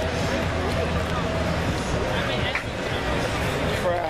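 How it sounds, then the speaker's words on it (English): A crowd murmurs steadily as it streams into the Grove for a tailgate party, a continuous blur of overlapping voices and footsteps at moderate level with no distinct speaker. "Crowd streaming in."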